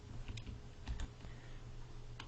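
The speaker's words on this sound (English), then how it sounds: "And we want to type the action script, go to and play." Keys tap on a computer keyboard during a Flash ActionScript tutorial, sounding as a few soft, quick clicks at close range in a quiet room.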